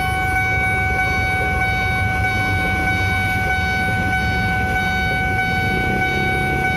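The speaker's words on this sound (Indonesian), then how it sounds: "Kita lihat kereta yang datang." A train rumbles steadily past close by at the Kedunggedeh level crossing in Karawang, Indonesia, a continuous heavy roar with sustained, droning horn-like tones running through it.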